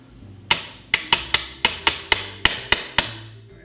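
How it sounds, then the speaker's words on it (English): A non-marring hammer taps a tight pin out of a Browning Auto 5 shotgun with ten sharp, close strikes in a fairly even rhythm, each one ringing briefly before the next. "we will tap it out. Let me find a hammer that's non-marring"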